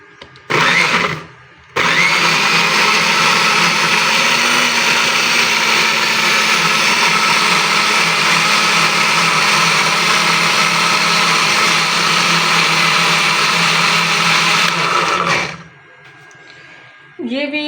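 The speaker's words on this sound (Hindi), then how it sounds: "अब मैं मशीन चलाने लगी हूँ।" A mixer grinder whirs loudly at high speed as it grinds tomatoes, one short burst followed by a long steady run of about fourteen seconds, then spinning down and stopping.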